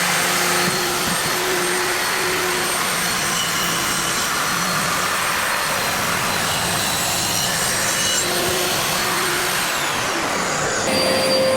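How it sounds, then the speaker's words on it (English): A dust extractor roars loud and steady while a table saw cuts through wood on a crosscut sled, a continuous rushing whine with no talk. "So let's turn the extractor on."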